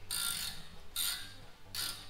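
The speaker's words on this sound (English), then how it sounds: "grab the 18 millimeter ratchet wrench and spin that nut off right there" An 18 mm ratchet wrench spins a nylon lock nut off a tie rod on a 2009 Dodge Avenger, giving three loud, close bursts of rapid pawl clicking separated by short pauses.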